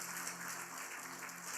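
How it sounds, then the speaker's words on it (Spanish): A church congregation applauding together, a steady wash of many hands clapping at moderate distance, fairly faint and continuous for a short burst without speech. "¿por qué no le damos un fuerte aplauso al Señor Jesucristo?"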